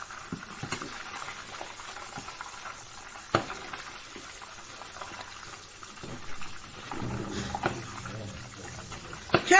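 Chicken frying in hot oil for its second fry gives a quiet, steady sizzle with small pops and occasional clinks of stirring, all fairly faint throughout.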